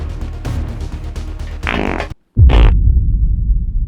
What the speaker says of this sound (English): There's a dedicated fart button in this game.